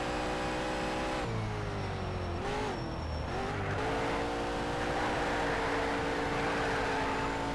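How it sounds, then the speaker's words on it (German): Race car in Need for Speed Shift drifting through a short curve, the loud engine note dipping and wavering as the car slides, with a low squealing tone under it, then steadying and climbing again. "Kurze Kurve gedriftet."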